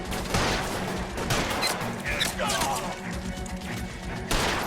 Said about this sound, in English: Someone's got a BAR.